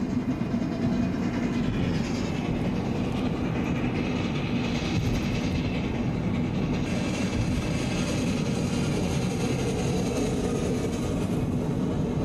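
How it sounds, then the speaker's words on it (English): A train rumbles past nearby with a continuous loud roar and faint rhythmic clatter, steady throughout with no voices. "Train just went by, but I didn't see it."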